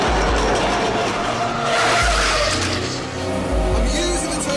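Renault Espace people carriers racing on a track: loud, continuous engine roar with skidding tire noise and surging revs, cars close by, with no one talking.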